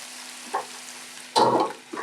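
Onions fry in a pan with a quiet background sizzle, broken by a couple of brief stirring scrapes and a louder crackling burst partway through.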